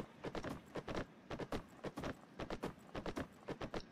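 Horse hooves clip-clop in Myth of Empires, a crisp, close, regular run of hoof strikes in quick groups that keeps an even rhythm for the whole stretch, with no talk.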